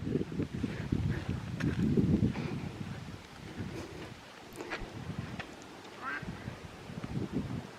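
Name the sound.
ducks and geese quacking on the water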